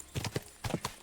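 Hooves of a galloping horse in the medieval video game Kingdom Come Deliverance 2 strike in quick, rhythmic clusters of thuds, fairly close and clear, with no talk over them.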